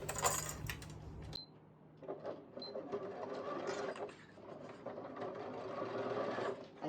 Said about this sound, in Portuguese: Agora eu vou costurar.